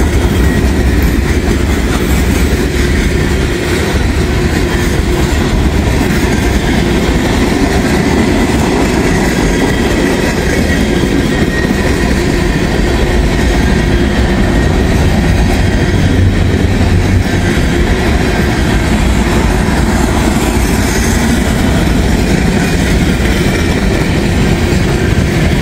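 Union Pacific and BNSF freight locomotives haul a northbound train past at close range, a loud, steady roar of rolling wheels and clattering cars that holds for the whole stretch.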